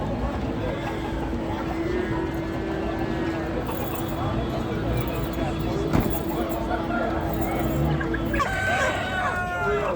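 Chickens and roosters at a busy poultry and bird market in Ganja, Azerbaijan; steady crowd noise and voices fill the scene, with scattered clucking and a rooster crow rising near the end.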